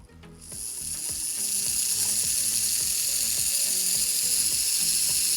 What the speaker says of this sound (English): Now, let's connect some direct power up to this thing and see how it runs.